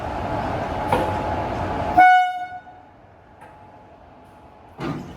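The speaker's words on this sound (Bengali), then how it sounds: "তো এটা হলো শিয়ালদা বালিয়া এক্সপ্রেস" The Sealdah–Ballia Express (13105/13106), running with ICF coaches, rumbles past loudly, then sounds one long, sharp horn blast that fades into quiet before the rolling noise swells again.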